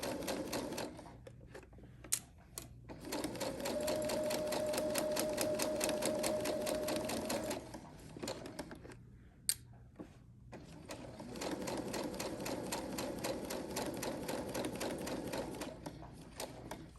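A sewing machine stitches a ruffle bag in long steady runs of rapid rhythmic clatter, pausing briefly between bursts with a few sharp clicks, close and alone without talk.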